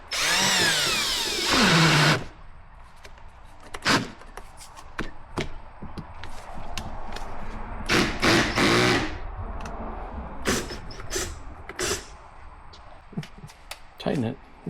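A power drill tightening a bolt on a zero turn mower, with loud whirring bursts at the start and intermittent short spins and clicks after, while people talk nearby.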